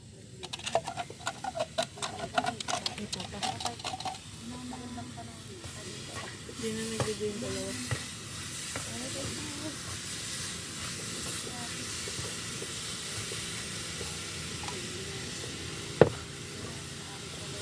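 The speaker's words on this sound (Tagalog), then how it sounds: "So, lagyan natin siya ng condense." Condensed milk being stirred into coconut pulp in a small frying pan, a steady hissing sizzle with scraping stirs, busier and clattery at first then settling into an even fry, with a brief sharp knock near the end.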